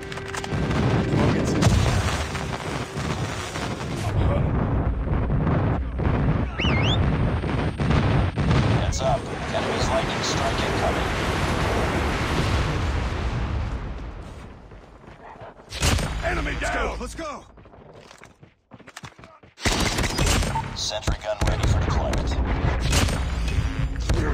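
Repeated booming airstrike blasts and gunfire during a hardpoint match in a first-person shooter, loud and dense for much of the clip, broken by brief drops to near silence, with game voice callouts over the noise.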